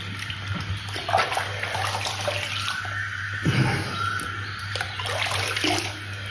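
Tap water runs steadily into a sink during cleanup after a straight razor shave, a close splashing flow with clinks and brief gurgles as hands move through it.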